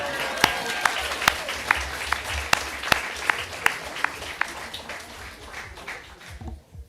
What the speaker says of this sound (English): I think it's important to applaud that too